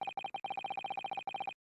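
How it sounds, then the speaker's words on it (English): Rapid Morse code beeping from a music box in The Great Ace Attorney: a steady run of short, clipped electronic tones in quick rhythmic bursts, clear and isolated with no voices. "Oh, it is Morse code."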